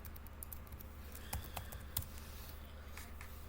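A password is typed on a computer keyboard at a Linux machine, heard as faint, scattered key clicks with a couple of sharper taps over a steady low hum.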